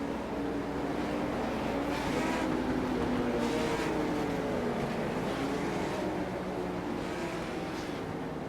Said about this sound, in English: Pace car will lead him around one more time around this little triangle of a track.